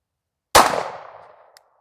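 A single loud, sharp shot from a Sig P365XL pistol fitted with a Holosun EPS Carry sight, fired at a shooting range. It cracks once and then rings off in a short decaying tail, with no talking.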